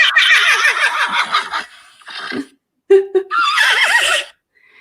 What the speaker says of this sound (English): Now, the thing about horse whinny sounds,